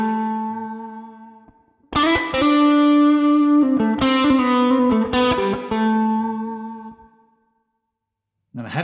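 Electric guitar played through a Mooer Prime P1 pocket multi-effects unit on a Gold Clon overdrive setting with gain and tone turned down and volume up: a mildly driven sustained chord, then repeated strummed chords ringing out, ending in silence and a new attack.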